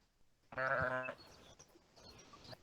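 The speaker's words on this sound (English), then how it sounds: "there are many sheep" A sheep on a farm lets out a single quavering bleat lasting about half a second, fairly faint, followed by quiet low background noise.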